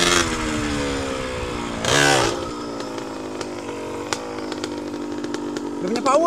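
A Yamaha Sportrim 125Z motorcycle engine with unstable power hums steadily, then revs sharply once and settles back to an uneven idle, with another short rev at the end.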